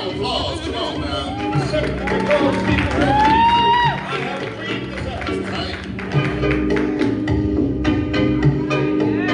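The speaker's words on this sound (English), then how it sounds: "Give a round of applause." Audience at a runway show claps and cheers, loose scattered applause with whoops and excited voices, while people talk over it near the microphone.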